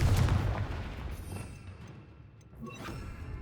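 The Confringo blasting spell from the game Hogwarts Legacy goes off in a heavy, rumbling explosion with a loud boom at the start, then a long, noisy decay, with no talk over it.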